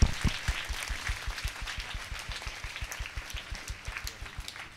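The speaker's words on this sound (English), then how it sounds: "please give him a big round of applause" A church congregation at a prayer service in a basilica in Secunderabad claps steadily for several seconds, moderately distant, over a regular low thumping pulse.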